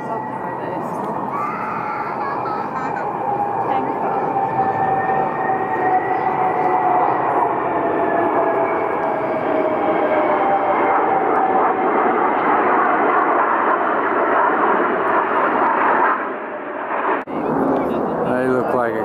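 Tanker aircraft pass over Lake Burley Griffin in Canberra during the RAAF centenary flypast, a loud, steady jet-engine roar that holds for nearly twenty seconds before dipping briefly near the end.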